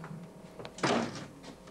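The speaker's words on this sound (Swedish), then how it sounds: "Vi får se när hon öppnar dörren" A door swings open indoors with a soft thunk and brief rattle, a single moderately loud event near the middle, followed by quiet room tone.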